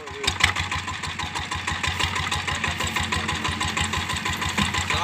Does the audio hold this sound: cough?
no